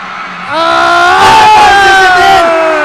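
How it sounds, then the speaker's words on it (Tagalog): A basketball crowd at a Masbate elimination game roars loudly as Monreal ties the score, a sustained surge of cheering and screaming that swells and holds. "And listen to this crowd roar as Monreal ties the game with 76 all."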